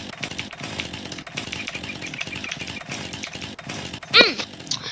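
Chainsaw running in Farming Simulator 19 during logging, a steady buzzing motor pulsing in an even rhythm, fairly loud and close, with a brief sharper burst near the end.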